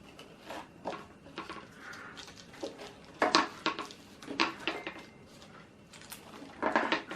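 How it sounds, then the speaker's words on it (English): Knife cutting through a tray of gooey salted caramel brownies, producing a series of irregular scraping taps and clinks against the pan, close and moderately loud, with no talking. "Let's get a knife, cut it up"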